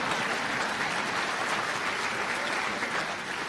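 A large audience at a medical school white coat ceremony breaks into steady, even applause, a dense wash of clapping filling the hall throughout without any voices.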